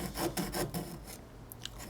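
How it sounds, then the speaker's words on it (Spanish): A few short rasping strokes of sandpaper on the hard edge of an acrylic sheet, steady and close, followed by quieter scraping and faint small clicks. "Esta parte de aquí la haremos con el canto de esta lija."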